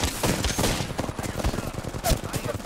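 Mozambique shotgun blasts in the video game Apex Legends, a rapid string of close, loud gunfire bursts with dense battle noise between shots.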